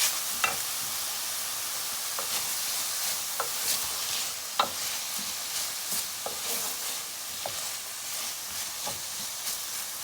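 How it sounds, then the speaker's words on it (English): Vegetables cooking with onion in a pan, a continuous bright sizzle and hiss with occasional stirring scrapes and soft taps, close and steady, without any talk. "we're gonna cook it a little bit together with the onion"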